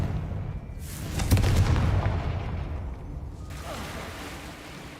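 A Confringo blasting curse goes off in the video game Hogwarts Legacy: a loud, close, booming burst with a rumbling tail that fades over a few seconds.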